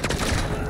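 Sustained, dense gunfire in Call of Duty Modern Warfare II, a rapid burst of overlapping shots that fills the whole brief moment at steady loudness.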